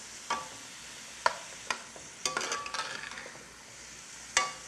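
A utensil stirs onions frying in a pan, producing quiet, intermittent scrapes and light clinks over a faint sizzle, close by and with no speech.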